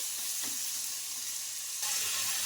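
Chopped tomato pieces fry with onions in a pan for chutney, a soft, steady sizzle close by with a faint stir near the start and a slight rise toward the end.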